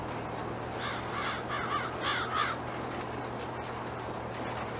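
Several crows caw in Farming Simulator 22, a run of harsh calls in short bursts over a steady low hum, moderately close and clear with no talking.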